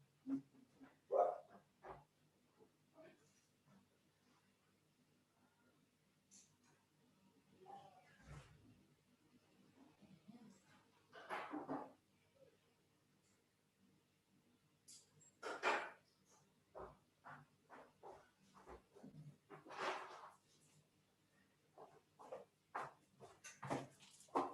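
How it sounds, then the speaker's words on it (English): A dog arriving home gives scattered whimpers and short barks at a distance, mixed with faint household knocks and shuffling, quiet and intermittent over about twenty-five seconds. "Hang on, my dog has just gotten home."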